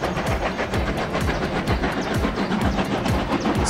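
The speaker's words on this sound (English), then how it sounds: "Steam locomotive." A steam locomotive rolls steadily along the rails, with a rhythmic clickety-clack of wheels and a hissing rumble, loud and close throughout.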